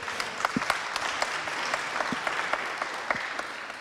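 A professional accountancy event audience gives itself a hearty round of applause, many hands clapping in a dense, steady, moderately loud burst with no voices.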